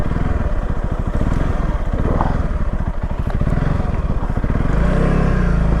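A Honda CRF300L dirt bike pulls away in first gear on a bush track in Australia, its single-cylinder engine a loud, close, rapid chugging throb that holds steady and swells near the end.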